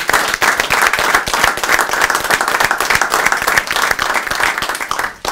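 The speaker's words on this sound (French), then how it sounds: "Je pense qu'on peut l'applaudir." Sustained, loud applause fills a regional county council meeting in Portneuf, with dense rapid clapping from a seated crowd running steadily throughout and no speech over it.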